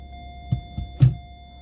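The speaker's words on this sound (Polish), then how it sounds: "Biegi wchodzą." Three soft mechanical clunks in quick succession as a car's Easytronic automated gearbox engages gear, over a low steady hum, the last one slightly louder.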